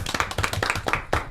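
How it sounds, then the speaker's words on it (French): A few people on a French auto-moto TV show clap their hands, a short run of distinct, closely spaced claps, fairly near and moderately loud. "On peut l'applaudir bien fort si vous êtes d'accord."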